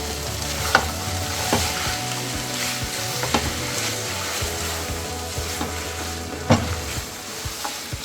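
Turkey empanada filling sizzles steadily in a frying pan as a spoon stirs it, with a constant close frying hiss and scattered scraping clinks of the utensil against the pan.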